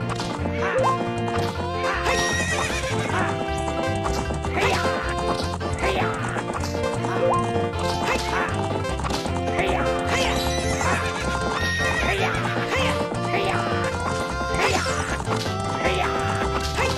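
Horses neigh and whinny repeatedly over rapid clip-clopping hooves, with crashing impacts and busy game-style sound effects throughout, from a horse race in Zelda: Ocarina of Time Master Quest.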